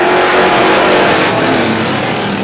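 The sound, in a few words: vintage race cars racing at Star Speedway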